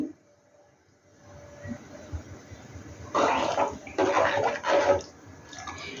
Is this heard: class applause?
no